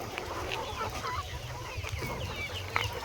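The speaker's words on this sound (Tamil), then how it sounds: "கின்னி கோழி தான் ரொம்ப அட்டகாசம் பண்ணுறாங்க" Harsh, scattered guinea fowl calls over steady noise from a free-range country chicken farmyard, faint and mostly at a distance.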